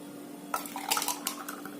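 Steel tumblers clink and clatter while a juice drink is made, a few light metallic knocks and scrapes over a faint steady hum.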